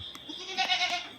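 A native goat on a home farm gives a short, close, wavering bleat, brief and fairly faint against quiet surroundings.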